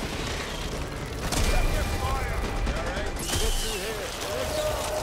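Rapid gunfire in the zombie shooter Back 4 Blood, bursts of shots rattling on through a reload, with dense busy game noise and a voice talking over it.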